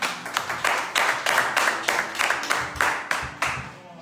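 A church congregation applauding in rhythmic unison, steady hand claps about twice per second, close and lively, continuing for several seconds with no distinct talk over it.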